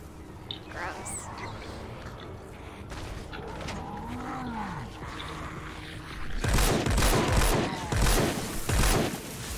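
Hydra weapon gunfire in the Fortnite video game: bursts of loud, rapid shots in the latter half, amid a lowing, creaking game creature and other game noise, with a voice speaking.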